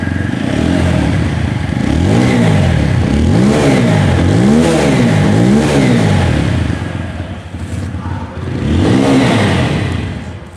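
A TVS Apache RTR 160 4V Special Edition motorcycle revs repeatedly, the exhaust note rising and falling in five quick throttle blips, a brief drop to idle, then one more rev, loud and close with no talk.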